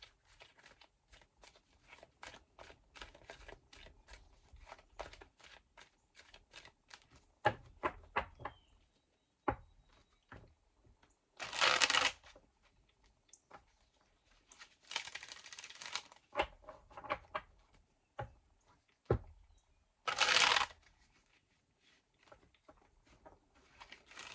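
Close, quiet riffling and snapping of a tarot card deck being shuffled, with soft taps, several brisk bursts of riffles and a few pauses.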